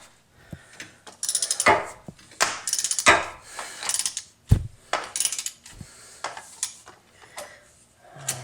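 A wrench ratchets and strains against a stuck bolt on a 1999 Jeep WJ during a brake swap, giving repeated close metallic clicks and sharp cracks in uneven bursts, with no talking.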